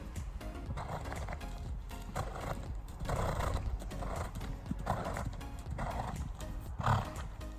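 A Standardbred horse runs with a steady, rhythmic clip-clop of hooves at moderate distance, a quiet whinny near the end, over light background noise.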